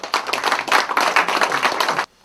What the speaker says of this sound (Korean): 힘내시라고 큰 박수 한번 부탁드리겠습니다.